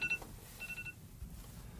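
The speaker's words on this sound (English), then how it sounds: "that was my alarm to get up and make something happen" A wake-up alarm sounds a few short electronic beeps in quick succession, faint and thin, with a couple of brief tones before a pause and a quick pair after.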